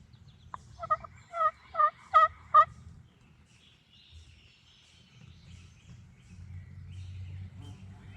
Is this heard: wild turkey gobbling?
yes